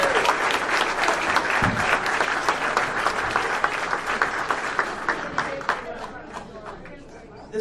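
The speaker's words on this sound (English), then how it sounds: "let's get a nice round of applause for the family" Audience applause at a county Republican election-night headquarters, dense and sustained with chatter and scattered voices mixed in, holding steady before tapering off near the end.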